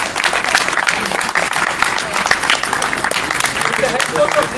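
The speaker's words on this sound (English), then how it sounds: "So please, round of applause for him" Audience at a cricket academy event applauds a chief selector, a dense wash of clapping that stays loud and steady throughout, with voices mixed into the crowd noise.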